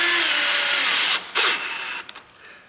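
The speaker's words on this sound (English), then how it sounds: "So I know these 2 screws are gonna go in tight," A power drill whirs steadily as it drives screws tight into a door hinge, then cuts off, spins briefly again and ends with a few small clicks, loud and close.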